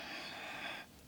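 A single breathy exhale during a yoga exercise, close and soft, lasting under a second before it fades away.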